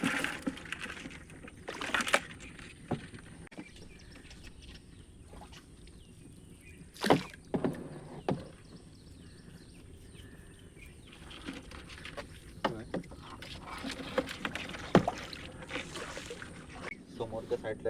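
A rowing boat moves through water while crab fishing, with intermittent splashes and oar knocks rising over a low watery background, and people talk nearby throughout.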